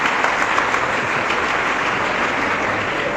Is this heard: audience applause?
yes